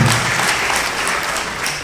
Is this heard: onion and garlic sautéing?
no